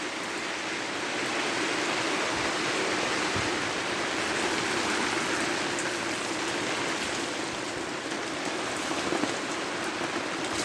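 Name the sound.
heavy rain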